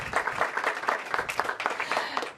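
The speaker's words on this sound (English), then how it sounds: "Give him a huge round of applause." A crowd at a city press briefing gives a short round of applause for an arriving council member, rapid overlapping claps that hold steady then fade at the end, with faint talking beneath.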